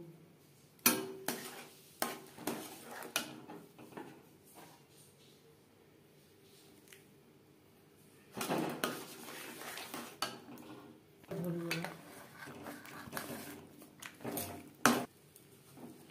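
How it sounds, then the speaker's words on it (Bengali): Utensil scraping and knocking in a pan while rice flour is stirred into simmering milk over a low gas flame for dudh puli pitha, intermittent clinks and bursts of scraping separated by quiet stretches, close and faint. "এভাবে চালের গুঁড়ো মিক্সড করতে থাকবো আর নাড়তে থাকবো।"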